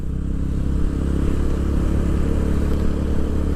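Steady motorcycle engine drone while riding in fourth gear near a beach, a continuous low rumble with wind noise and no pauses, loud and close, no talking.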